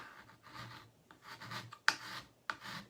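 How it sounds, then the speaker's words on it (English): A scraper drags thick chalk paste across a surface in several close rasping strokes, with a couple of sharp ticks as the edge catches. "and just scrape away that chalk"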